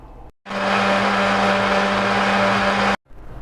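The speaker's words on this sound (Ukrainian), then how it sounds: "Туди кладу різану цибулю, так буде легше перебити цибулю." A kitchen blender runs loud and steady for about two and a half seconds, chopping sliced onion together with leftover blended tomato, starting and stopping abruptly.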